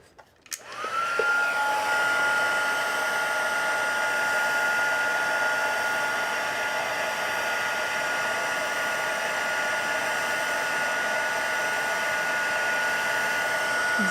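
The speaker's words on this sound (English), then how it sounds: "And then the heat tool." An embossing heat tool switches on and blows hot air in a steady, loud whir with a constant high whine, running alone without talk for the whole stretch.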